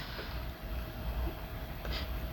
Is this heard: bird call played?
no